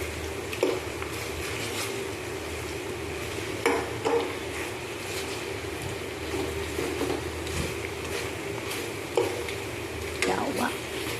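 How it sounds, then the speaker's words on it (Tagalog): Pork tocino frying in oil in a pan at home for lunch, giving a steady soft sizzle with occasional louder crackles and stirring clatters, no talking. "Maluluto na ang aking tocino alla Paloma."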